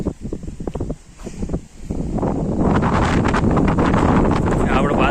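Strong wind gusts across open farmland where a late millet crop has ripened, starting as uneven buffeting and building after a couple of seconds into a loud, steady roar against the microphone.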